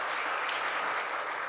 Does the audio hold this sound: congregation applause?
yes